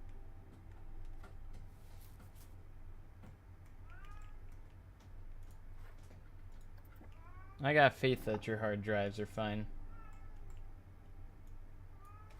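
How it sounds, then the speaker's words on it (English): A pet cat cries and meows repeatedly outside a closed door, a cluster of loud drawn-out wails lasting about two seconds, heard after someone talking quietly over a faint ticking background. "My cat is going insane because he's not in the same room as me."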